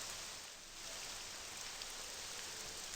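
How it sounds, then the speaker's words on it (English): Steady, loud rain hisses evenly in Morrowind, a constant downpour with no other sounds and no variation. "I'm gonna turn down that rain."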